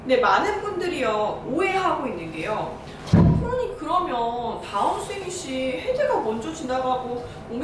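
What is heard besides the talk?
No everyday noises stand out.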